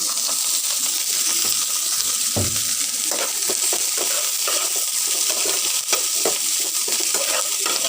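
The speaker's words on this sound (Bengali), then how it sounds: "এবার আমি তেল দিয়ে দেবো সাদা তেল দিয়ে দিচ্ছি" Bitter gourd being stirred in white oil in a pan, with a steady broadband sizzle and scattered scraping clicks from the spatula, plus one sharper knock partway through; no talking.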